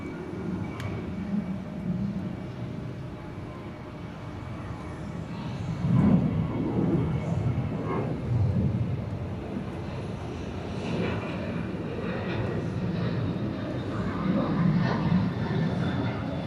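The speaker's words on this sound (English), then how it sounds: "it looks like that Korean Air 777 will be landing here on the north side" Korean Air Boeing 777 landing on the north side of Atlanta airport, a distant, low jet engine rumble that swells and eases over several seconds, steady and continuous, no clear talk.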